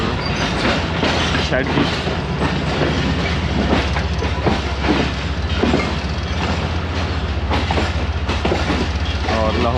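The Khyber Mail train pulls slowly out of Lahore Junction with a loud rolling rumble and rhythmic clickety-clack of wheels on rail joints. Someone talks over the noise.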